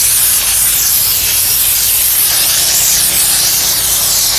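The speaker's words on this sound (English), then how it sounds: "And we're gonna steam the seat" Steam cleaner steaming a car seat: a loud, steady, close hiss of spraying steam running continuously without pause.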